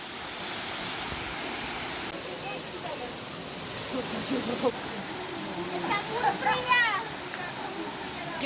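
A waterfall in the Topes de Collantes natural park in Cuba gives off a steady, broad rush of falling water nearby, with voices faintly over it toward the end.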